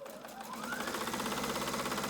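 Sewing machine stitching fabric strips for face mask ties: a steady, fast mechanical whirr that ramps up in speed over the first half-second, then runs evenly, close and moderately loud, with no talking.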